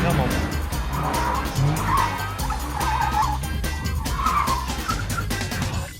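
A car skids with screeching tires during a failed handbrake turn on a test track, in a comparison of an Audi TT RS, Porsche Boxster S and Nissan 370Z. The engine drones loudly and steadily throughout, and voices talk over it.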